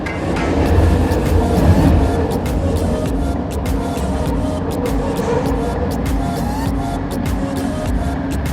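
Steady, loud rumble of a moving train on the line to KLCC in Kuala Lumpur, with continuous wheel and track noise and faint rattling clicks throughout, no voices.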